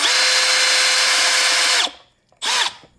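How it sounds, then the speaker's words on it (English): A power drill boring into a broken steel bolt on a BMW E9X/E82 runs at low RPM for about two seconds, stops, then gives one short burst, loud and close. "You want to use lower RPMs and a bit of a pressure on your drill."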